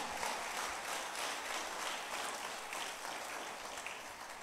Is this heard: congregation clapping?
yes